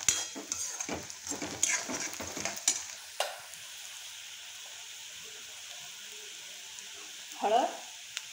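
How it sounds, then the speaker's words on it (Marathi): Potato bhaji tempering spices and ingredients frying in hot oil, a steady bright sizzle with stirring clatter and scraping in the first few seconds, then a softer continuous fry and a brief louder burst near the end. "मस्त तेलामध्ये सर्व साहित्य होऊ द्यायचं. छानपैकी तळल्या जातं हे तेलामध्ये."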